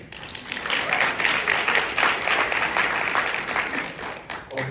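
A room full of people applauds steadily, a dense wash of clapping holding for several seconds before tapering slightly.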